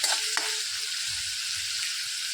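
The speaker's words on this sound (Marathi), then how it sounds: "राई आणि जिरा आपण चांगलं असं भाजून घ्यायचं आहे" Mustard seeds and cumin fry in hot oil for a spiced okra dish, producing a continuous close sizzle with a brief clink near the start and no voices.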